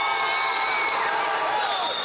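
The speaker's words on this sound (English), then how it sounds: "And this crowd is loud for this Life Waxahachie team." A loud home crowd roars steadily at a high school basketball game between Connally HS and Life Waxahachie, with dense sustained cheering and whooping and no break in the noise.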